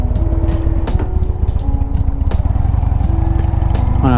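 A Harley-Davidson Dyna Super Glide Custom motorcycle rumbles steadily while being ridden, its deep, even engine pulse running loud and close throughout, with light wind noise on top.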